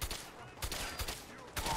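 Gunfire in the video game Fallout 4, a few quick bursts of shots in under two seconds, moderately loud with no talk over them.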